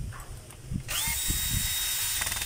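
A Stanley 7213 power drill drives screws, its motor whirring up sharply and running steadily after a short stretch of quiet handling sounds.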